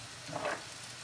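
Seafood paella is stirred in a pan, a soft, brief sizzle with a faint scrape of stirring, quiet and close with no talk.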